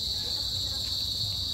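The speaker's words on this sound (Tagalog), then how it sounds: "Naririnig yung mga kuliglig yun, naririnig ko." Crickets chirping in a park, a dense, continuous high-pitched trill that stays steady and fairly loud throughout the short stretch, with faint low background rumble and no clear talk.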